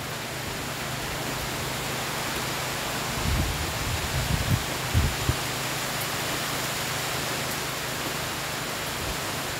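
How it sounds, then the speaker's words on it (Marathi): Strong wind sweeping across the Konkan countryside near rice fields, a constant loud broadband roar with a few brief low thumps partway through. "वाऱ्याचा वेग पण जास्त आहे."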